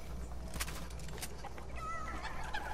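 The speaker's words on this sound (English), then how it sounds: "God damn these little chickens." Chickens in Fortnite cluck in a series of soft, close clucks during gameplay, mixed with game sounds under a steady low background.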